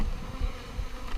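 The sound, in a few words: honeybees buzzing while being shaken into a hive box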